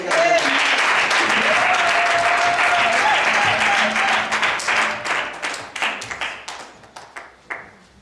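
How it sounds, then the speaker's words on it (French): A church congregation applauds for Pastor Célestin with loud, dense clapping and voices that thin out into scattered, fading claps. "nous allons acclamons Dieu pour le pasteur Célestin"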